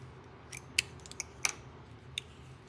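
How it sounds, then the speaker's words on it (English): Craft scissors from a learn-to-crochet kit snip several times, giving sharp, separate cuts with short pauses between them, close and fairly quiet, with no one talking. "So it does come with a pair of craft scissors"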